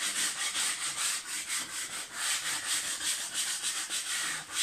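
Hand sanding the edge of a worktop edging strip to round it over, a steady near scratchy rubbing in quick back-and-forth strokes that carries on without pause, with no voices.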